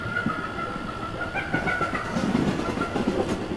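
Train running past a jungle as an audio drama sound effect, a steady rumble with rhythmic clickety-clack of wheels on rails and faint whistle-like tones over it.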